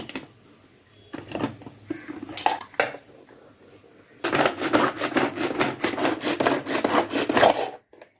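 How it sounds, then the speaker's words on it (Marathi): Onions and coriander leaves are chopped finely with a knife on a board, first a few scattered cuts, then a fast continuous run of close rhythmic chopping strokes that stops suddenly. "थोडी कोथिंबीर घेतलेली आहे तिला आपण बारीक करून घेऊया"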